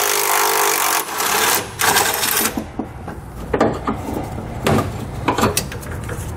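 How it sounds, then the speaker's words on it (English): A 13 mm socket wrench loosens and removes a single bolt while installing Firestone Ride-Rite Red Label Extreme Duty air helper springs on a 2019 vehicle. Close, irregular metallic ratcheting and clicks come in bursts with brief pauses and no talk. "we're going to take a 13 millimeter socket. We have one bolt here. We're just going to go ahead and remove this."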